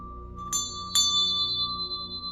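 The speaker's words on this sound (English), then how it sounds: "these metal bells can be kind of harsh, but we're using them to cut through illusion." Two bright metal bell strikes a little apart, each ringing out with a long shimmering decay over a quiet hum.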